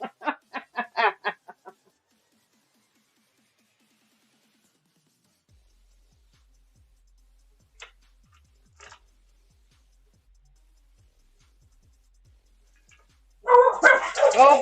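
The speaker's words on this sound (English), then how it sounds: "I told you, Benji's been barky all day." A dog barks in a quick burst of about six sharp barks at the start, then near silence with faint bumps before a person starts talking at the end.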